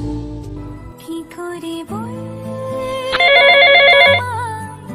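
A telephone rings on an outgoing call in a Bengali short film, sounding as a bright warbling burst of about one second over soft background music, with no talk.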